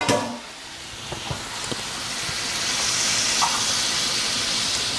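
Seafood, shrimp among it, cooks in a seasoned sauce in a pan, giving a steady hissing sizzle that swells slightly after a brief spattering start, close and without talk.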